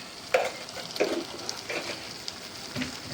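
Red masala and coriander powder fry in a pan for paneer kepsa. A steady, soft sizzle runs throughout, broken by several short scraping stirs, with no talking.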